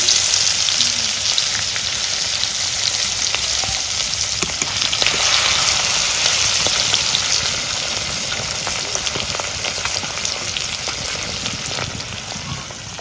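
Tilapia fish fries in mustard oil in an old wok, a loud, continuous crackling sizzle with scattered pops that lasts throughout.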